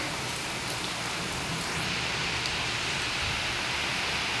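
Heavy monsoon rain pours steadily close by, a dense continuous hiss with scattered drops striking surfaces near a house doorway, with no voices.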